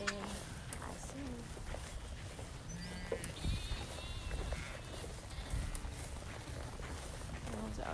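Grazing sheep bleat in a field, several short, wavering calls from different animals, near and far, over soft outdoor background noise with occasional hoof clops and a murmur of voices.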